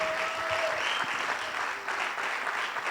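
A church congregation applauds members of its outreach team during a special open-doors service, a steady, full wash of clapping that continues throughout.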